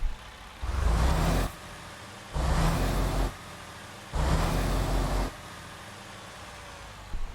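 A heavy DD15 diesel engine in a Western Star 57X truck in American Truck Simulator revs three times in evenly spaced surges, each a loud roaring rise lasting about a second before dropping back to idle.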